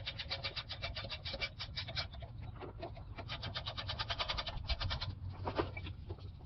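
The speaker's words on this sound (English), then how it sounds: "Now with our 14mm, we're going to go ahead and tighten that up." A 14mm wrench ratchets clamshell bolts tight on the rear brake assembly of a 1999-2004 Ford Mustang, giving a fast run of repeated close clicking strokes with brief pauses between bursts.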